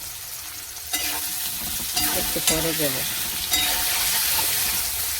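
Potatoes and water spinach fry in a pan with a steady sizzle, occasional stirring scrapes and clatter, a brief voice speaking over it.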